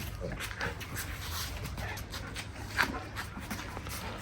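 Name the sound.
dog whimpering and panting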